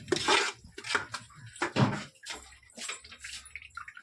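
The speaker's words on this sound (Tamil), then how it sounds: "இப்போ நம்ம அரிசி போட போகிறோம்" Soaked rice poured into a cooking pot, giving a run of close, wet splashing and sloshing bursts with short pauses between them.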